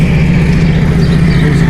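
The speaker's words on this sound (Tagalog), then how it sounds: "Ito ng motor, oh." An old World War II-era motor engine runs close by, a loud steady low rumble with a constant droning hum and no pauses.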